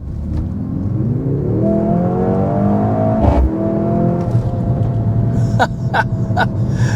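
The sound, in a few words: performance SUV engine accelerating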